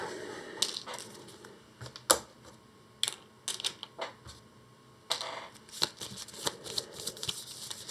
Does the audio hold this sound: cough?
no